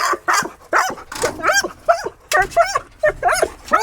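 A dog barks and yips in short repeated bursts close by during a game of fetch with a ball, giving about eight sharp calls over a few seconds with little pause between them.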